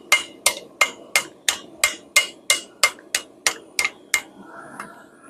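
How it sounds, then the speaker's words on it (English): Hammer tapping a hot tomahawk at forging temperature to forge weld it: about thirteen crisp, ringing metallic strikes at a steady, even pace, close and clear, then the blows stop. "Now we're going to just sit here and tap it where we want it to forge weld."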